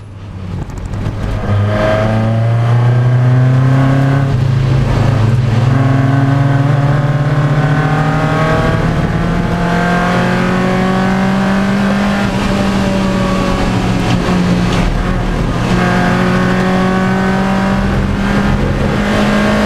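A Lotus race car roars loudly and continuously at close range during a Roadsports race at Anglesey circuit, its engine rising and falling through gear changes without any talk.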